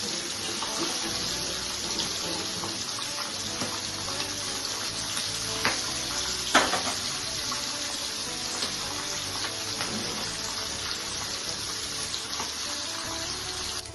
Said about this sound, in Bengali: মাছগুলোকে তুলে নিচ্ছি, উল্টিয়ে দিচ্ছি, কড়া করে ভেজতে হবে